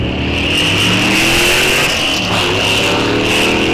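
A stick-shift drag race car with a 4-speed gearbox launches loud and close at a fall drag strip, its engine roaring steadily with a brief gear-change dip partway through, no talk over it.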